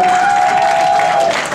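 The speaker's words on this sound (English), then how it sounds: "I think we have to give him a big applause." Audience applause at a fundraiser meet-and-greet: a dense, steady wash of clapping from a room full of people, loud and continuous for the whole stretch with a faint tone running underneath, tapering slightly at the end.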